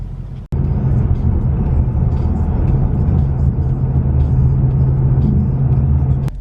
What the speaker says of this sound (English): I would want to hear that V8 every day.